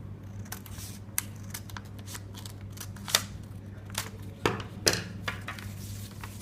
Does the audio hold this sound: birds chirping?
no